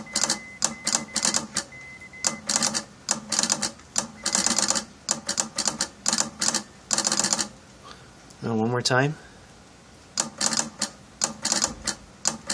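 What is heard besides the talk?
1890s telegraph relay clicking out a call sign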